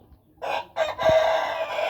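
A breeding fighting rooster crows close by, a loud single cock-a-doodle-doo starting after a brief pause and a short burst, the crow held to the end of the clip.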